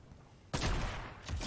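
Fortnite gunfire from a trio match breaks out abruptly after a quiet half second, a sharp burst of shots followed by a second volley near the end.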